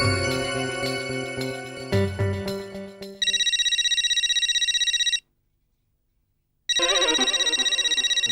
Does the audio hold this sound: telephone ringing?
yes